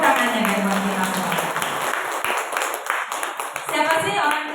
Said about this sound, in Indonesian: Tepuk tangannya ya buat kita semua.